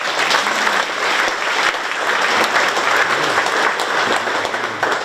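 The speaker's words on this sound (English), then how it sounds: "give a round of applause to all those folks." An audience at the opening of a technical college's construction career center applauds steadily and loudly, a dense wash of clapping that fills the whole stretch without a break and with no talk over it.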